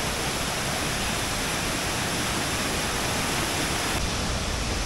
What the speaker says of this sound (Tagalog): Ayan yung Mother Falls.